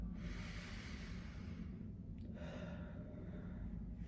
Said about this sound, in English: One more deep breath here.